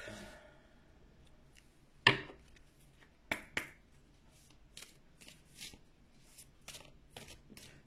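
Fortune-telling cards are shuffled and snapped down indoors, giving a few sharp flicks and soft riffling taps scattered over near-silence.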